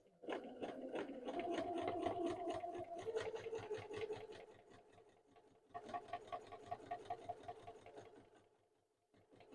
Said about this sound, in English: And we're top stitching on the vinyl.